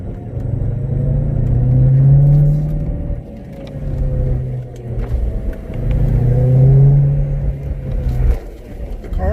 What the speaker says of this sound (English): I can really hear the supercharger today.